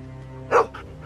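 A dog named Sam barks once, short and fairly close, in The Walking Dead Season 2 game, followed by a fainter second yip over a low steady background hum.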